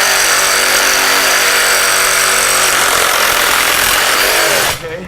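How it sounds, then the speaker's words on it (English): A DeWalt cordless power tool cuts through PVC pipe for pool work, a loud, continuous close-up buzzing roar that runs for nearly five seconds, then cuts off abruptly at the end. "I'll make a few pieces, a few cuts in my PVC."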